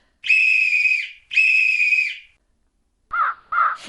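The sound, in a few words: whistle blown twice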